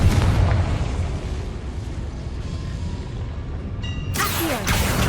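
The fire spell Confringo blasts in Hogwarts Legacy, a loud, dense rumbling explosion that roars throughout and then ends in a sharp magical whoosh and crackle.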